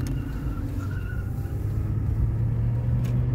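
Road traffic heard from inside a moving car, a steady low rumble of engine and tyre noise with a passing vehicle swell, continuous and fairly close.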